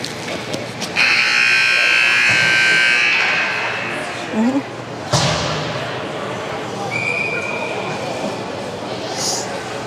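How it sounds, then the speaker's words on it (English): A buzzer sounding the end of a period at an NJC versus OBJ hockey game, a loud steady electronic tone over crowd noise and rink commotion, with a thud and scattered voices around it. "Buzzer went."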